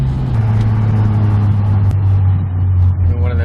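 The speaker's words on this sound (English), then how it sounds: "One of them downshifts" Car engine revving and downshifting, a loud, close, sustained low engine drone that shifts pitch partway through, with a brief voice audible over it.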